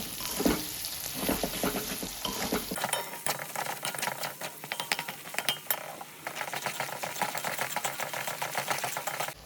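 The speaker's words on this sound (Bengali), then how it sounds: "জিরে গুঁড়ো ধনে গুঁড়ো এই দিয়ে ভালোভাবে কষিয়ে নেব" Ground cumin, coriander and Kashmiri chili powder sizzle and fry in a pan while being stirred for a Bengali chicken and potato curry. The sizzling is steady and close, with scraping strokes throughout and no talk.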